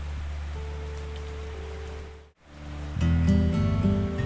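Rainfall in the WolfQuest video game, a steady hiss of rain on surfaces that briefly cuts out, then resumes with low ambient game tones beneath it.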